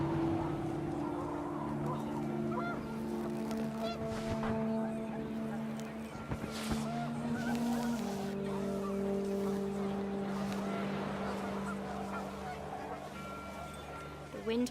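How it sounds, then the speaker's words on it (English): Geese honk in a windy outdoor scene of the game What Remains of Edith Finch, their calls overlapping with sustained tones and background music throughout, loud and continuous. "The wind picked up, and panicked geese appeared and quickly went."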